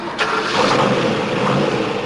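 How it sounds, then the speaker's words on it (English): A car engine starting up and running, a loud sustained mid-range engine drone that kicks in early and holds steady to the end. "Hear that? Yeah, it's an engine."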